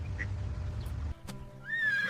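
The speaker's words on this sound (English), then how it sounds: "Duck. This is a duck." A duck gives a single quack, with a short harsh call followed by a brief rising tone, heard near and clear after a low background rumble cuts off.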